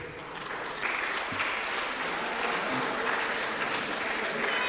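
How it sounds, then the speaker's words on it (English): A debate audience in Cape Town applauds its panelists with a continuous wash of clapping that swells and holds evenly, heard from some distance. "Once again, please give our panelists a round of applause."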